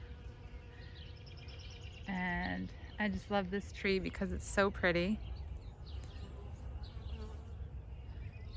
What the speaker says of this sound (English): you can probably hear the bees humming away because there's a lot of them